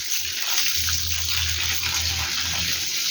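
Water sprayed steadily onto garden soil before sowing coriander, a continuous close hiss and patter of falling droplets running without pause, with no voices over it.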